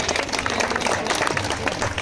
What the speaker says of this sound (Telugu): ఒకసారి క్లాప్స్ కొడతారని.